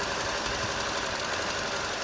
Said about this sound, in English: You see the engine starting to misfire ever so slightly.